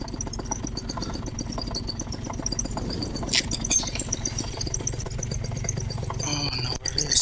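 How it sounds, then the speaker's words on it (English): Paramotor engine idling with a steady rapid knocking from a loose exhaust, a dense mechanical rattle running throughout at close range with a brief dip near the end. "I'm hearing something knock back there."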